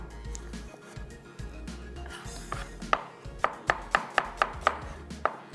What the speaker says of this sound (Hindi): प्याज हो गई हमारी स्लाइस